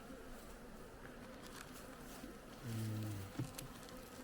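A low, steady honeybee buzz hums throughout at an open hive, swelling briefly louder near the end as bees pass close, with a soft murmur from a person.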